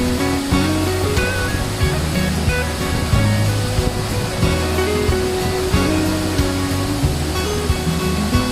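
Tad Yuang twin waterfall on the Bolaven Plateau, Laos, pouring in a loud, constant roar of crashing water, broad and unbroken with faint tonal hum mixed in and no voices.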